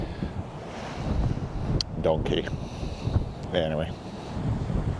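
Strong wind on Orkney buffets the microphone in a steady low roar throughout, with a person briefly speaking over it midway.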